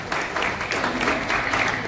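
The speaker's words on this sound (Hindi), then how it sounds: "Ladies and gentlemen, जोरदार तालियां." Audience applause at an awards ceremony, a dense, even patter of many hands clapping throughout, moderately close and sustained without a break.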